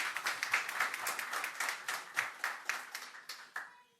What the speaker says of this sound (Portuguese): Uma salva de palmas para o doutor Evilásio.